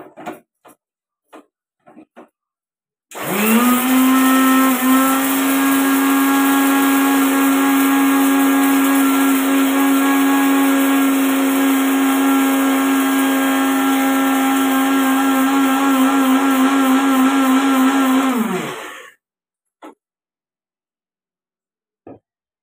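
A kitchen mixer grinder whirs loudly for about fifteen seconds, grinding batter for fasting fritters finer, a steady high motor whine that starts abruptly and winds down at the end, with a few clicks before and after.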